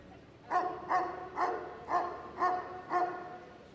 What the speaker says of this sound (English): Lots of you can get your dogs to bark, but can you get them to be quiet?